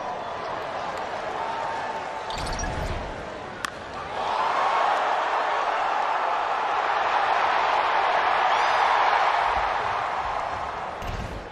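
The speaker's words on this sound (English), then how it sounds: "Love the roar of the crowd even more." A baseball crowd at an Angels versus Tigers MLB game swells into a broad, sustained roar that rises after a few seconds and holds steadily loud. A sharp crack comes just before it, and there are faint thumps near the start and end.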